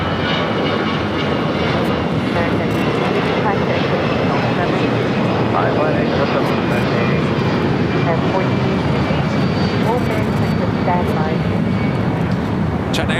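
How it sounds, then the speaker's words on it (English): China Airlines Boeing 777 cargo freighter touching down on runway 25 left at LAX, a loud continuous broadband engine roar that holds steady throughout. "China Airlines cargo 777 freighter touching down at 25 left."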